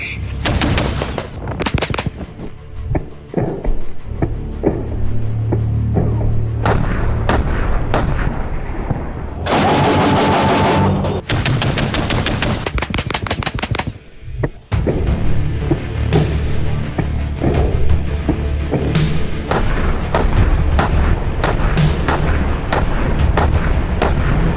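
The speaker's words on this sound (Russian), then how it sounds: "Так, теперь постреляем по башне немножечко." Bradley infantry fighting vehicle cannon firing at a tank turret in a video game, sending long loud bursts of rapid booming shots with dense rattling stretches and heavy impacts, close and continuous throughout.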